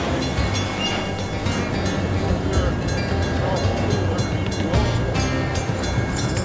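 Heavy, steady rumble of a stalled train starting to move, with broadband rolling noise and metallic clatter, continuous and fairly loud throughout, no voices. Recorded at Marquette, Iowa, on the Mississippi River.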